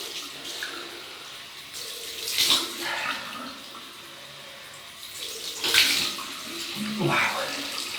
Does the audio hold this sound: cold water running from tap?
yes